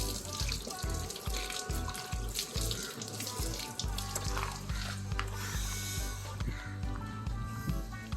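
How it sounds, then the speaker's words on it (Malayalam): Water poured over a car headlight to rinse it, a steady splashing, running stream close by that continues throughout with a low rhythmic knocking underneath. "ഒന്ന് വെള്ളം ഒഴിച്ച് കഴുകുക"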